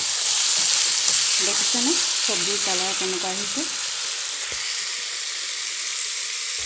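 Vegetables with dry fish sizzle and hiss steadily in a hot pan while being stirred, under a person speaking in the middle of the frying.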